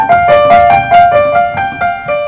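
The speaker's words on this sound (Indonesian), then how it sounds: "Ini suara piano aslinya." A piano voice played in GarageBand for iOS, triggered from a MIDI keyboard, rings out as a short run of clear, loud sustained notes, each struck one after another with no talking.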